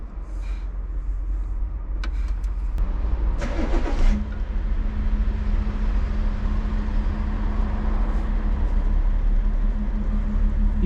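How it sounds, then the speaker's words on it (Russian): A BMW's engine cranks briefly and catches, then settles into a steady, close idle with a constant low hum and no talking. "давайте сейчас запустим машину"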